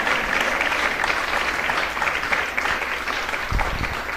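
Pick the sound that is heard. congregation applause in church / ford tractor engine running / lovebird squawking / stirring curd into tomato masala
congregation applause in church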